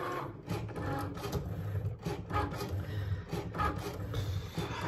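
A sticker cutting machine cuts calibration lines with a quiet, scratchy mechanical scraping. Short strokes start and stop in an uneven rhythm, faint and close by.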